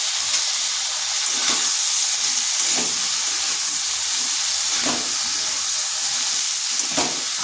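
Potato and eggplant frying in oil with turmeric, a loud continuous hiss and sizzle with soft periodic stirring scrapes.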